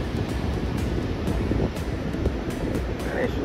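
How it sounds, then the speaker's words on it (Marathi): Rough surf at quiet Aravi beach on the Konkan coast, a dense continuous roar of breaking waves with heavy wind rumble buffeting the microphone, loud and unbroken throughout. "लाटा काय जरा जास्तच खवळलेल्या दिसत आहेत"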